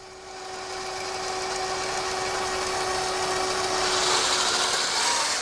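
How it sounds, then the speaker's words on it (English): A slow-moving RC model tank with 4-shaft gearboxes crawls across grippy carpet, its electric motors and gears giving a steady, close whine with a constant tone that grows slightly louder and brighter toward the end. "This is really grippy carpet, so if a tank turns on this, it's got good torque in its motors."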